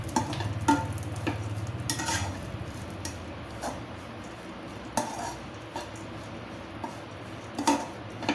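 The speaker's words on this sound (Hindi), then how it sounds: "अब हम नारियल भी भून लेंगे, थोड़ा सा ज्यादा नहीं भूनना है," Coconut gratings stirred and lightly roasted in a pan for a Janmashtami panchmeva pag sweet, giving soft scraping and scattered utensil clinks against the pan over a low background, with no talk.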